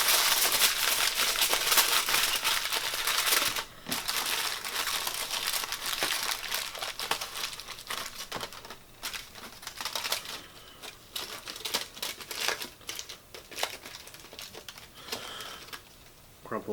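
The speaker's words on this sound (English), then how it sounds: "I'm just going to crumple." Craft material is crumpled by hand into the wing of an upcycled owl sculpture, making close, loud crinkling and crackling bursts that go on steadily with short pauses between them.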